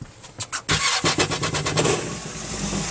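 A few clicks, then the engine of a Yamaha AR240 jet boat cranks and catches, settling into a steady running rumble close by.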